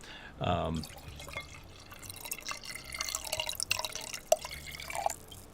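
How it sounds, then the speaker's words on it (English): A freshly poured drink fizzing in a glass, a faint steady crackle of popping bubbles after a brief pouring splash, with quiet voices in the background. "You can hear the bubbles popping."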